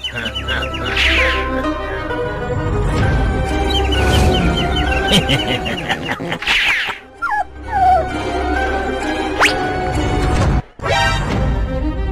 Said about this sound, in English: Oh, these stupid birds.